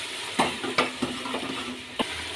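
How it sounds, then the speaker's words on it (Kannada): A spoon stirs kidney beans in a cooking pot for a spiced bean curry, with a few distinct scraping knocks against the pot over a soft sizzle. "ಈಗ ಎಲ್ಲ ಮಿಕ್ಸ್ ಮಾಡೋಣ."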